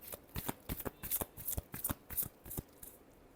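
Tarot cards being shuffled by hand in a quiet room, a quick rhythmic series of crisp riffling snaps and flutters, close and soft, with no voices.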